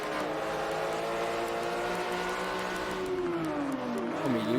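Sustained GT3 race car engine note during a racing game at Silverstone, pitch sweeping and dropping under braking near the end, loud and continuous with faint commentary underneath.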